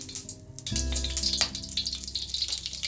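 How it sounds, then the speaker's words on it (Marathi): Mustard seeds crackle and pop in hot oil in a kadhai as the tempering for a Bhogi vegetable dish begins, a quiet rapid spattering over a low sizzle. "आपली मोहरी तडतडली"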